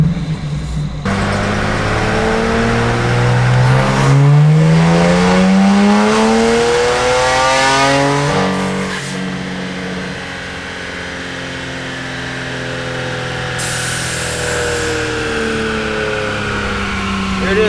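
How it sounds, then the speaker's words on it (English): A stage 1 plus tuned BMW 335i revs hard up through the range, the engine note climbing loudly before easing off and settling into a lower steady drone, close and dominant throughout. "we're gonna try stage 1 plus"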